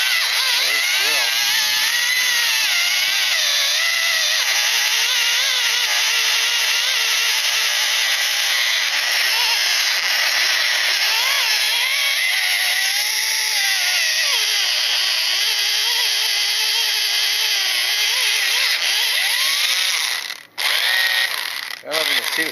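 An electric drill running continuously at high speed while overheating and smoking, a loud steady whine held for about twenty seconds before cutting out briefly and restarting near the end, close to the microphone.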